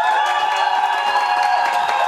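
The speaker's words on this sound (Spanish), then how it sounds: "Ahora aplausos para Israel y Rosy." Crowd applause and cheering for a dancing couple at a cumbia and guaracha dance contest in Brooklyn, a dense, steady wash of clapping and crowd noise over music that holds for about two seconds.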